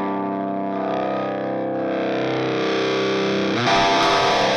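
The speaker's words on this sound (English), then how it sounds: "This pedal, first pedal, is the OD pedal, OD1." Electric guitar played through a Boss OD-1 overdrive pedal, a sustained distorted chord ringing loud and alone, followed by a sharp new strummed attack near the end.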